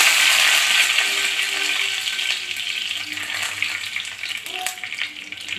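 Dried red chilies and fenugreek seeds crackle and sizzle in hot oil in a pan for a ragi dosa chutney; a steady, close frying hiss runs throughout with no talking.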